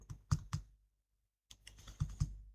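Keys clack on a computer keyboard while entering data into an Excel spreadsheet: a few quiet, close taps in two small bursts split by a brief silence.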